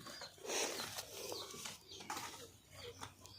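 Soft, low pigeon cooing drifts in at a distance, faint and intermittent, with a few light bird chirps over a quiet outdoor background.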